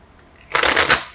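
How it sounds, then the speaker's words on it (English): A quick riffle of playing cards being shuffled close up, a brief papery flutter after a moment of quiet. "Shuffle again. Okay, we'll shuffle again."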